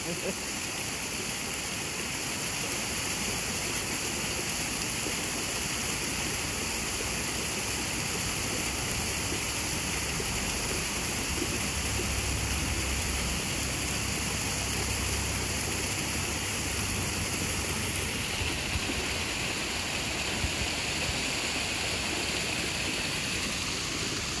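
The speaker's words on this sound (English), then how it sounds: "Just so peaceful listening to that water." Water from a small waterfall by a river in Santa Fe rushes and splashes continuously, a broad steady hiss that stays even throughout.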